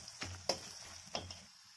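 A spatula stirs a salted egg fry in a pan: two soft, close scraping taps over a faint, steady sizzle, with no talking.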